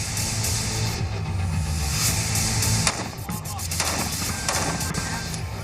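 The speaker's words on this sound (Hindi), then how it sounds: "एक ऑटोमेटिक गन है जो आधा किलोमीटर से भी ज्यादा रेंज में तैनात दुश्मन पर मौत बरसाती है।" An automatic gun fires rapidly during rigorous commando training, loud bursts of shots crackling continuously across the whole stretch with sharp cracks standing out near the middle and later.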